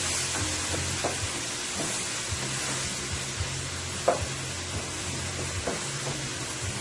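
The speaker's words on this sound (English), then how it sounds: "So my veggies are frying up nicely here." Vegetables for home fries sizzle steadily in a hot pan, a constant bright hiss broken by a few soft clinks of stirring, with no talking.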